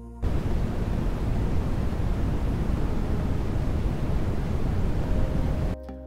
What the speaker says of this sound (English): White noise is a random sound signal that has different frequencies but that remains at the same intensity.